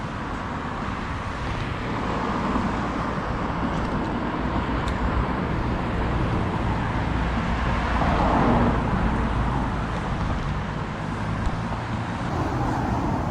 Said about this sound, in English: Cars are very noisy on this busy main road